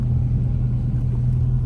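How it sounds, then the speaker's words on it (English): Low, steady rumble of thunder during a heavy thunderstorm at Big Bear, a deep continuous roll that stays loud and even throughout with no voices. "Hear the thunder again?"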